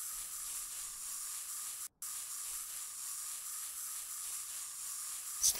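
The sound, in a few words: spray painting in the Workshop Simulator video game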